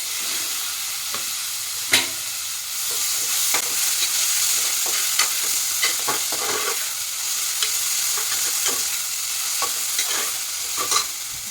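Chopped tomato fries in a pan for vegetable ghee rice, giving a steady sizzle with frequent scraping stirs and a sharp clatter near the start, moderately loud and close, with no voices.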